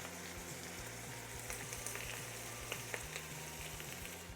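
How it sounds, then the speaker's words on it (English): Garlic, ginger and red chili flakes frying in oil in a pan for ramen, a faint, steady sizzle with small crackles and pops, heard alone without talk. "Just give that a minute or two to fry"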